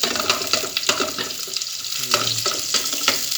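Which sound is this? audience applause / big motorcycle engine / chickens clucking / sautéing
sautéing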